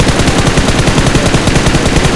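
Dense, rapid gunfire from a mobile shooting video game, with overlapping automatic bursts that fill the whole stretch at a loud, steady level and carry no speech.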